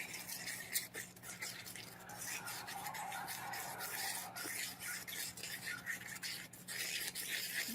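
UGC layering mix powder is stirred into a smooth paste for freeze-and-fuse glass work, making faint, continuous soft scraping and swishing strokes with a low steady hum underneath.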